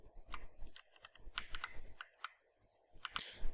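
Keys tapped on a computer keyboard while entering values into a Swift program, a few quick clicking strokes in short bursts, close and fairly quiet, with no talking.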